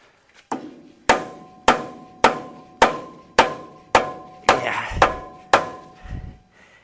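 A wedge taken from a toolbox is hammered in during a vehicle teardown: about nine sharp, evenly spaced metallic strikes roughly half a second apart, each ringing briefly, close and loud with no talking.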